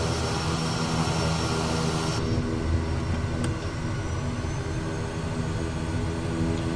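A Daher Kodiak single-engine turbine plane in Microsoft Flight Simulator sits at a standstill after landing, its steady loud turbine whine and propeller drone continuous, with the high hiss dropping away partway through while the low roar holds.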